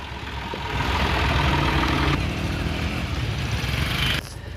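A motorcycle engine, just kick-started, runs and idles with a steady low rumble, fairly close, and cuts off near the end.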